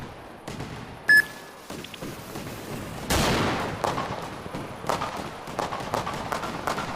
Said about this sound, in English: We will try some loud new firecracker.